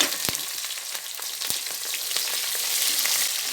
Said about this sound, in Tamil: இது நல்லா வதங்கட்டும் பொன்னிறமாக நல்லா நிறம் மாதிரி வதங்கி வந்துருச்சு